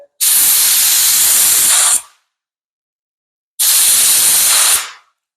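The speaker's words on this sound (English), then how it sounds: "Now this is where I know this gun sprays good at." A paint spray gun fires two long bursts of about two seconds each, a loud broad hiss that starts sharply and trails off, separated by a short silence.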